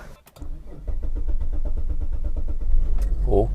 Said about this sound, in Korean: 다행히 시동 걸리네요